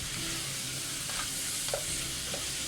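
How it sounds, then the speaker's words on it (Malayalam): Sliced onion with a quarter teaspoon of ginger-garlic paste sautéing in a pan for a pressure-cooker biryani, a steady broadband sizzle with a few soft stirring scrapes, close and continuous, no voices. "ഇനി സവാളയുടെ കൂടെ തന്നെ ഒരു 1/4 ടീസ്പൂൺ നമ്മുടെ ഇഞ്ചി വെളുത്തുള്ളി പേസ്റ്റ് അതും കൂടി ഇട്ടെടുത്ത് നന്നായിട്ടങ്ങ് വഴറ്റി കൊടുക്കുക"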